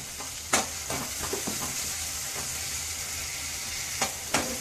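Tomatoes frying in a pan for benda kaya pachadi give a continuous loud sizzle, broken by a few sharp clicks of stirring utensils.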